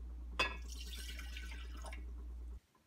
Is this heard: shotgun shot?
no